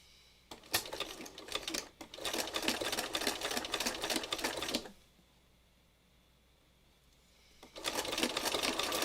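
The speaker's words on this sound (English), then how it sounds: "to stitch a wider and shorter zigzag so that you get this almost a satin stitch look all the way around" Two bursts of close sewing machine stitching, a long one and then a shorter one after a quiet pause, lay a wide, short zigzag satin stitch around the edge of a meandering book project.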